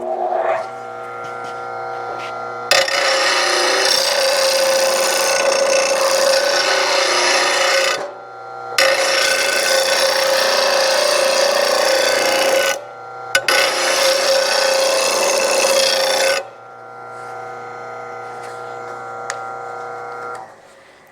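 A rusty mower blade for a Grasshopper 900D mower gets sharpened in three loud, harsh grinding bursts of several seconds each, with a lower motor whine in the pauses between them.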